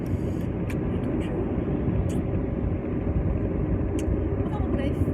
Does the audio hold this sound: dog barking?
no